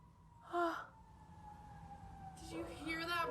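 A faint, distant siren wails steadily in the background, interrupted by two close breathy gasps or sighs.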